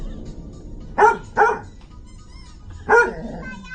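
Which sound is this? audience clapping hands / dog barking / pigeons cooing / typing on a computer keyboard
dog barking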